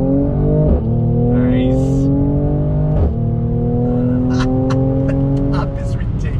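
A 2020 Mercedes-AMG C43 sedan accelerates hard on throttle, its engine rising loud and close through rising pitch sweeps broken by quick upshifts, with a brief spoken word from a person over the engine.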